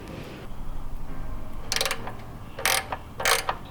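A ratchet backs out the muffler bolts on an Indian Scout Bobber motorcycle, giving three short, close bursts of rapid clicking separated by brief pauses.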